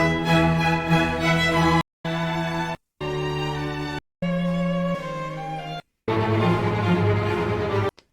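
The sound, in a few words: Vivaldi's Spring, original classical orchestral recording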